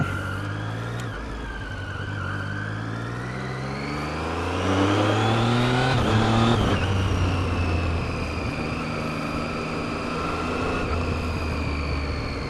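A Triumph Street Triple 675R motorcycle engine drones loudly and continuously while riding, its pitch climbing as it accelerates, then easing back and holding a steady hum.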